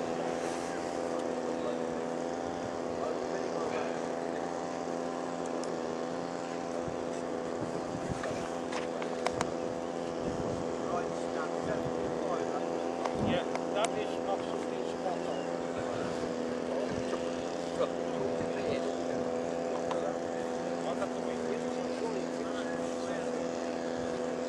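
A boat engine runs steadily with a constant droning hum throughout, fairly loud and close, with some scattered knocks and clatter over it.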